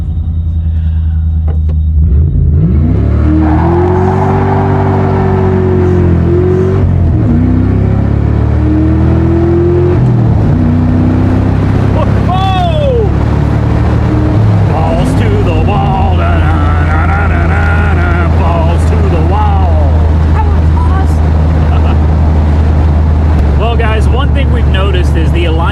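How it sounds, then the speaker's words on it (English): A 1997 Ford Mustang GT with a 5-speed manual revs hard during a burnout, its V8 engine rising and falling in repeated loud surges over a constant low rumble, with people talking inside the car. "see if we can get her to do a little burnout"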